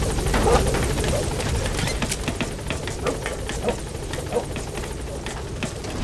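A helicopter in Metal Gear Solid V: The Phantom Pain holds at a landing zone, its steady rotor roar filling the scene alongside a run of sharp clicks and impacts.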